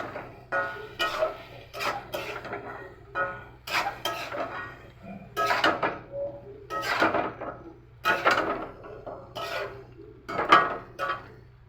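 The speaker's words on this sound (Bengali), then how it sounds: "আমি ঢাকনাটাকে আবার খুলে দিলাম, নিয়ে আমি এটাকে নাড়াচাড়া করলাম।" A spoon clacking and scraping against a pot of ghugni, curried dried peas, after the lid comes off, giving a string of sharp, evenly spaced knocks and brief rasps over a quiet background.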